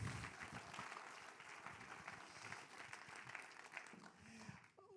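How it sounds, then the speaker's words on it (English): Applause from an audience at a film screening, a steady wash of clapping heard faintly from a distance throughout. "So a round of applause again."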